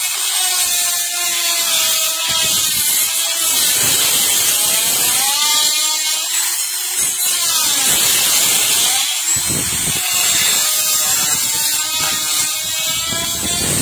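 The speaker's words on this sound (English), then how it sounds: "You can see it's able to grind" A Total die grinder fitted with a fine-grit stone bit grinds loudly and continuously, its high whine rising and falling in pitch as pressure on the workpiece changes.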